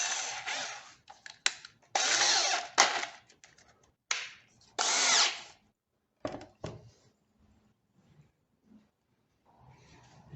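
Screws being power-driven to mount soft-close cabinet hinges, heard as several loud bursts of a drill or driver motor separated by short pauses and light handling clicks, with no talk.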